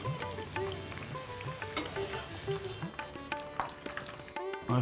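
Drumstick pieces, bitter gourd and eggplant fry in hot oil, a close, soft, steady sizzle with scattered crackles and light pops, no voices.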